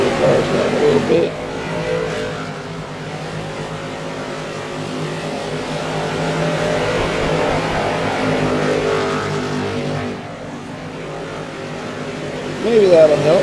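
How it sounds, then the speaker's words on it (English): Limited late model touring cars in a racing video game drone continuously at a steady engine pitch, a thick pack sound that swells slightly and dips briefly before rising again, with someone talking over it. "Cars are loud."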